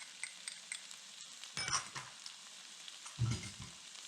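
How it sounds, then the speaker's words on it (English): Fresh garlic and ginger sautéing with mostly cooked vegetables for a venison stir-fry, a soft steady sizzle broken by two louder bursts of stirring and scraping, close by with no talking. "we're going to just saute this in for about 30 seconds."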